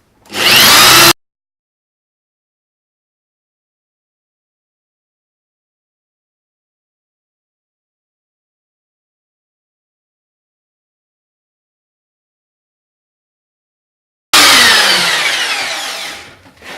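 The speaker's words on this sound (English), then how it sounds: "And then I'm going to drill it." A power drill bites into a sandstone house number plaque in two short, loud bursts: one at the start and another near the end, separated by a long stretch of silence.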